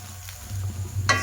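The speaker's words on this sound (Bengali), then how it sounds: "এদিকে আমার আলু পটলটা কষা হয়ে গেছে, আর একটু ভেজে নেবো" Potato and pointed gourd fry in a pan over a gas flame with a soft, steady sizzle, and a brief scraping stir comes near the end.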